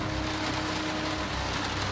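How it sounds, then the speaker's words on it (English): Heavy, hardcore rain pouring down outdoors during a storm, with water filling an inflatable Zodiac boat, a loud, constant, dense hiss of drops without pause. "It's hardcore rain."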